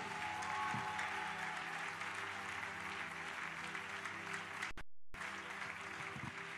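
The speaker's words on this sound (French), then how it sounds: "Acclame 3 fois plus que ça" Church congregation applauding loudly and steadily in a sustained wave of clapping, with a brief drop-out near the end before the clapping resumes.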